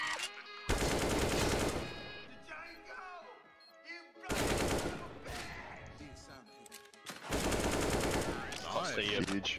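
CS:GO gunfire comes in three loud bursts of rapid automatic shots, each lasting about a second, with players talking and reacting excitedly in the gaps between them.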